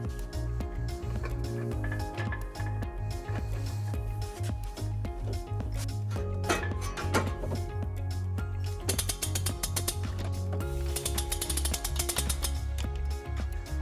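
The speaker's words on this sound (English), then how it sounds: "We will be using our U-Haul exclusive hitch jack." A U-Haul hitch jack ratchets as it lifts a heavy trailer hitch into position under a 2017 Toyota Sienna, giving steady close mechanical clicking and grinding with metallic scrapes, louder toward the end.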